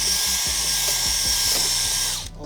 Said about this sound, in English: Just put a new drill battery in so it's nice and powerful.